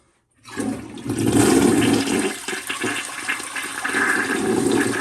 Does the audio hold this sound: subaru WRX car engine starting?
no